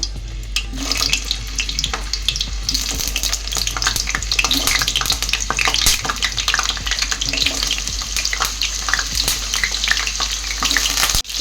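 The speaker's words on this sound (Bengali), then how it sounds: "লবণ আর হলুদ দিয়ে ভালো করে আমি আলুগুলোকে ফ্রাই করে নেব" Potatoes fry loudly in hot mustard oil, a constant sizzling hiss with crackles and the scrape of stirring throughout.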